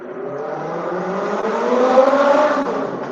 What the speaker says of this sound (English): Somebody outside, they loud on their motorcycle, or whatever it is they own.